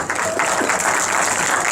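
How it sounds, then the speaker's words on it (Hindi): Applause from a lecture audience cheering for a man called Rugby, a steady dense patter of clapping that holds at a fairly loud level for the whole short stretch. "शाबाश, तालियां बजाओ रग्बी के लिए"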